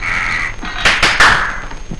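A crow caws loudly and close by, giving about three harsh, rasping calls in quick succession over a faint background hum.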